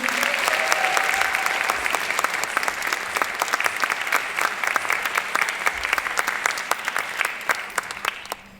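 After an Arangetram classical dance performance, an audience gives a sustained round of applause, many hands clapping with distinct sharp claps standing out, steady and fairly close for over eight seconds before fading at the end.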